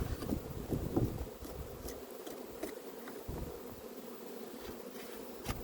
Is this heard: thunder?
no